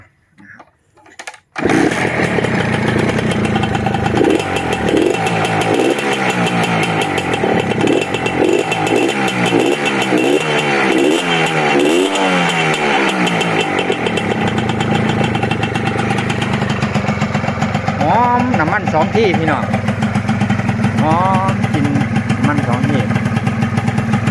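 A Honda Tena motorcycle engine starts and revs up and down several times, then settles into a steady loud idle with occasional speech-like sounds over it.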